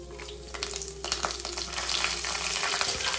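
Whole spices and kasuri methi fry in oil in a pan for an easy home chole, giving a steady close crackling sizzle with scattered small pops and stirring scrapes, no voices.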